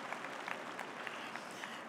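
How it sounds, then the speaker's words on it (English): Graduation ceremony audience at a college commencement applauding steadily, dense sustained clapping from a large crowd throughout, fairly distant and even. "That's something to clap about."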